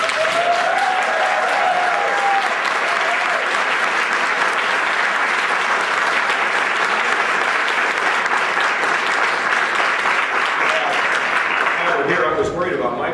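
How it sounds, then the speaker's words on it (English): A room claps steadily and loudly for Michael, who has just been appointed to a job at a state government event. The applause is continuous and full, with voices audible beneath it. It thins out near the end. "You want to give a round of applause to Michael getting his job today?"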